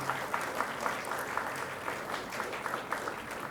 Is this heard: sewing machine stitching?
no